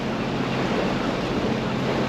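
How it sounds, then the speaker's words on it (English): Dense ocean surf and wind roar on a cold day at sea, with a big wave building; the noise is loud, continuous and close, with strong wind buffeting and no talk. "here we go. Big wave."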